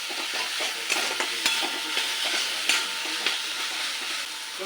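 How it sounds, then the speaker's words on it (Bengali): Turmeric and chili powder with salt frying in oil in a pan for a Bengali pumpkin curry, a steady sizzle broken by light scrapes and stirring clicks, close and moderately loud, with no talking. "মশলাটা কষা হয়ে গেছে"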